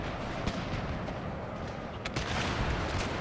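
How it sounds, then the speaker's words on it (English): Cannon fire in a Total War battle set in the Thirty Years' War, with dense rumbling booms and crackling volleys layered over a continuous roar of battle noise at steady loudness. "Cannons roar. Strike the enemy cavalry."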